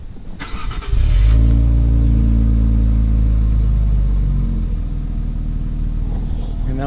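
A 2018 Infiniti Q50 Red Sport, already warmed up, fires up by remote start heard from outside: a brief crank, then a loud, close engine catch that settles into a steady, deep idle rumble.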